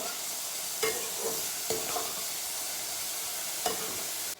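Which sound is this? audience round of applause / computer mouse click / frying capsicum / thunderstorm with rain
frying capsicum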